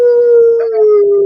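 A small dog shut in a bathroom howls in one loud, sustained, close tone that holds steady and dips slightly at the end, with no other sounds.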